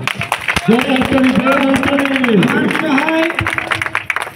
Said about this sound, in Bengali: আপনারা জোরদার হাততালি দেন একবার।